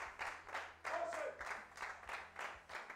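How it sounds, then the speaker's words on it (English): Congregation clapping hands in a steady, quick rhythm during a church prayer session, each clap distinct and fairly soft, about a dozen claps in a few seconds. "Clap your hands and shout, fire."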